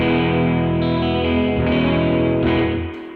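Bass guitar runs through a Source Audio Artifakt lo-fi pedal with Destruct overdrive, giving a thick, gritty, sustained distorted tone with slight shifting texture that fades out at the end, with no talking.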